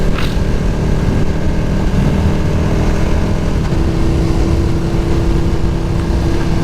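A KTM 1290 Super Duke race bike fitted with an aftermarket exhaust runs steadily at close range, a loud, continuous engine drone with a brief sharper rise right at the start and no talking.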